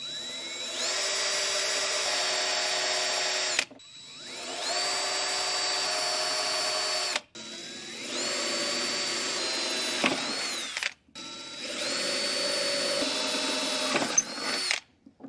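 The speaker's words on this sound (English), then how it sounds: "I'm gonna drill a small pilot hole before using the bigger drill bit" A power drill bores a small pilot hole in four sustained bursts with short pauses between, close and steady, the pitch dipping briefly near the end of each run.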